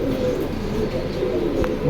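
Pigeons for sale at Jinjira market coo softly in low, throaty murmurs amid a busy, noisy background, with a few faint chirps mixed in.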